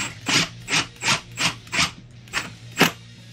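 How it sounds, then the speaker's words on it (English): Power driver sinking a screw through an electrical box into a wooden wall stud while adding an outlet off a light switch, heard as a run of seven close, evenly spaced whirring bursts, each rising and falling, with no talking. "we're gonna screw right through the box into the wood stud right there"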